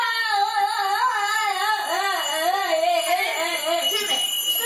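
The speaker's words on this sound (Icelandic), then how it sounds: "Er þetta vekjaraklukka?" An alarm clock rings loud and continuous with a warbling electronic bell tone, with children's voices heard over it near the end.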